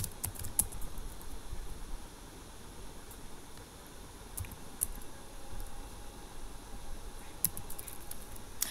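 Computer keyboard keys tapped steadily while HTML code is written, a soft continuous patter of clicks with occasional sharper keystrokes over a faint background hiss.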